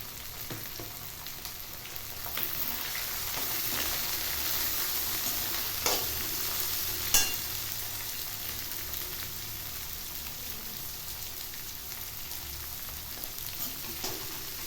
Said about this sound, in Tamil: காய்கறி இது எல்லாத்தையும் நல்லா வதக்கிடணும்.